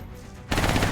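A sudden loud burst of rapid machine gun fire from XCOM: Enemy Unknown starts halfway through, after a quieter stretch, and runs steadily to the end.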